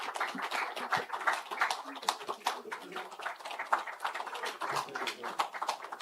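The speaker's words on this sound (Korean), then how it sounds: "세 분의 후보자님께 다시 한번 박수 부탁드리고 격려해 주시기 바랍니다" An assembly audience of the People Power Party claps for three candidates for National Assembly vice speaker after their policy speeches, a faint, steady patter of many hands with voices mixed in.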